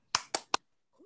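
Three sharp, crisp claps in quick rhythmic succession, close and loud, during a "tepuk semangat" spirit-clapping chant in a talk on stunting prevention, followed by a brief soft voice.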